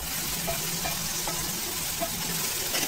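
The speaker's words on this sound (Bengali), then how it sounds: "এই যে ঢেঁড়স ভাজি হয়ে গেছে আমার, পেঁয়াজু আছে, আস্তে আস্তে করে লাড়াচাড়া করে দিচ্ছি।" Okra frying with onion in a hot pan, a steady close sizzle with soft scraping and stirring clicks running throughout, no voices.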